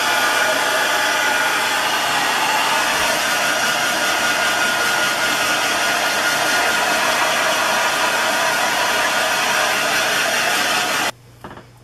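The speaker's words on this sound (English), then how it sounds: "I always flip over and start drying my roots up here" Continuous loud whooshing roar of a hair dryer blow-drying the roots of short hair up close, holding steady for about eleven seconds before cutting off abruptly.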